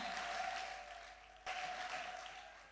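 A church congregation applauding, a steady crowd clapping that dips briefly and then surges again, filling the room at moderate volume.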